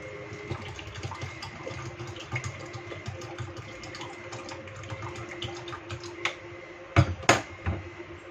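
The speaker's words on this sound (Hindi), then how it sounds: "अब इसमें ऐड करूँगी ठंडा पानी।" Cold water pours into a container of freshly ground juice in a home kitchen, a steady close trickling fill with a couple of louder splashing bursts near the end.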